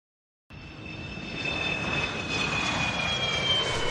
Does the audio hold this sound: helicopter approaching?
yes